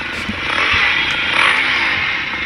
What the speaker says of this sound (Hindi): फिलहाल तो अभी बाइक पे जो लगा रखा है उसकी आवाज़